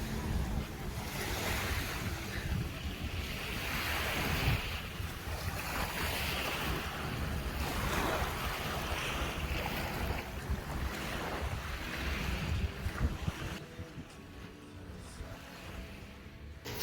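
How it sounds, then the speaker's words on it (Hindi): Ocean waves wash steadily onto a beach in Saudi Arabia during a road trip, a continuous roar of surf with strong wind buffeting the microphone throughout. "सीधे बीच के सामने आके बैठे हैं"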